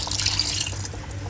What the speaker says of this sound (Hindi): तो अभी हम इसके अंदर 1 गिलास पानी डाल रहे हैं।